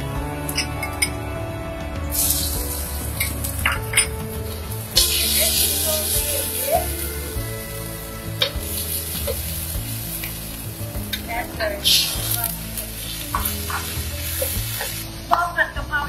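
Garlic and chili sizzle loudly in a hot pan for pad gapao, with steady frying hiss, bursts of louder crackle and repeated clinks and scrapes of a utensil stirring against the metal.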